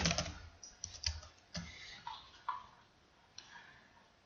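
Sparse, irregular keystrokes on a computer keyboard, quiet and close, with short gaps between clusters of taps as a name is typed.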